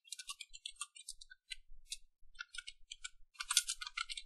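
Light, crisp clicks from a computer keyboard as a format command is typed, irregular taps in small bursts, close and alone.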